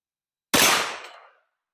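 A single sharp gunshot from a Ruger LC Carbine firing 10mm handloads outdoors, abrupt and loud with a decaying tail after near silence.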